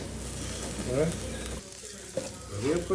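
Green chillies and curry leaves hitting hot oil while egg burji is being cooked: a soft, steady sizzle with occasional stirring scrapes and brief flare-ups, close and moderately quiet.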